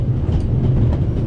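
A train rolls steadily along the rails in The Raven, a continuous close rumble with faint rhythmic clatter running the whole time, no voices.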